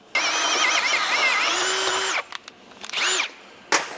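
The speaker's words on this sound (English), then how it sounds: "So that just means it'll drill the holes 100 mil oversize." A handheld power drill drilling holes whines at high pitch for about two seconds, then several shorter bursts follow, close and loud with no speech.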